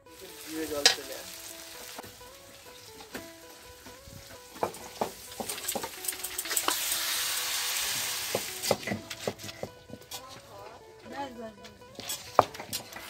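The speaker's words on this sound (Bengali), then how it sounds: "সুন্দর করে বন্ধুরা পাঁঠার মাংস আমি কষে নেব।" Goat meat is braised and stir-fried in a pan at an outdoor family picnic. A crackling sizzle swells in the middle, punctuated by sharp spatula scrapes and clinks, with people talking nearby in between.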